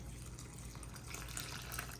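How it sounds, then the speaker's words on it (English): Cooking liquid is poured from a container back into a macaroni and cheese dish, a faint, continuous watery splash and trickle heard close by for a couple of seconds with no talk. "So I'm going to add some of this water back, liquid back"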